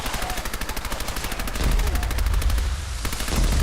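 Rapid automatic gunfire in Fallout 4, a fast regular burst of close shots that continues throughout while low rumbling booms swell in the second half.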